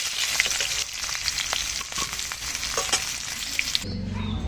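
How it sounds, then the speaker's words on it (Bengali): Puti fish sizzle and crackle in hot oil, a dense continuous frying noise with occasional stirring clicks, cutting off abruptly near the end. "সব মাছ একটু সুন্দর করে ভেজে তুলে নিয়েছি।"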